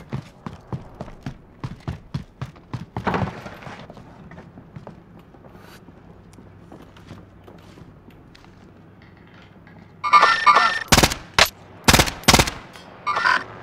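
Small-caliber gunfire in Call of Duty Warzone, a rapid run of quiet distant clicks and pops that gives way to a few loud, close bursts near the end, with no talking.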